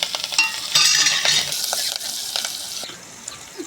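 Green Padra chilies dropped into hot oil with cumin for a kadhi tempering, sizzling up close with bursts of crackle and a few spoon-stirring clinks before settling down.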